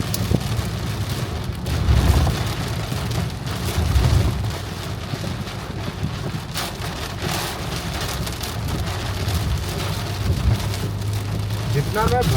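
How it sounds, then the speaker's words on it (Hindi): Heavy rain pelts a car on a road trip from Delhi toward Spiti Valley, a dense, steady drumming with occasional heavier swells and faint low rumbles, loud and continuous throughout. "बारिश बहुत तेज"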